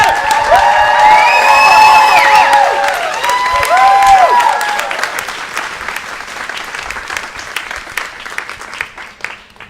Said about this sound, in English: Thanks for all that applause